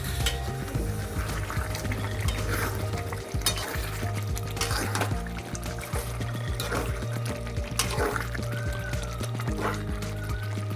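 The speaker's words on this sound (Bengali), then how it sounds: "এখানে রান্না হচ্ছে চিকেন কষা" Chicken kosha cooks in a pan, with a continuous frying sizzle broken by repeated scraping stirs and soft liquid sloshes over a low background hum. No one speaks.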